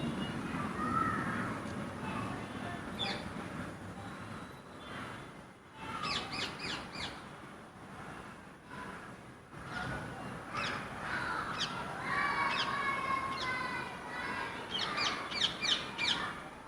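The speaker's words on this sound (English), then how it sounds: "now that we've actually got some birds shouting" Rose-ringed parakeets and crows calling outdoors, repeated sharp caws and shrill chirping bursts, some near and some farther off, over steady background hiss, with quiet talk now and then.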